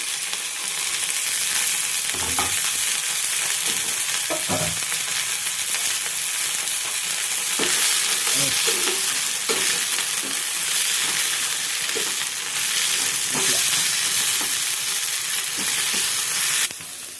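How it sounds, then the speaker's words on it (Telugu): Ten green chillies and coriander frying in a pan for coconut chutney, giving a steady, loud, continuous sizzle with occasional stirring knocks throughout, and no talking. "10 గల్ల పచ్చిమిర్చి, కొత్తిమీర పొడిన కొంచెం దూరగా ఫ్రై చేసుకుందాం"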